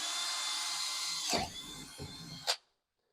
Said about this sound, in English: And then we're just going to drill.